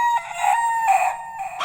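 Toy chicken sounding a loud, close, squawky electronic rooster crow, cock-a-doodle-doo style, filling the moment on its own without talk.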